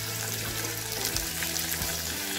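Curry leaves and spices sizzle in hot oil in a pan for rasam, a steady bright hiss with a few soft bubbling pops and no talking.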